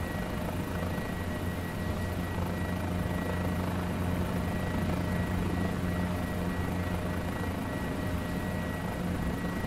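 A Guimbal G2 helicopter in Microsoft Flight Simulator 2020, a loud, steady rotor whine and engine drone with fixed humming tones, continuous throughout and with no voices.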